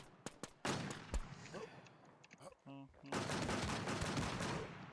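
Gunfire in a shooting video game, with a few sharp shots early, then a dense rapid burst of automatic fire that fills the second half, loud and close; a voice is heard briefly.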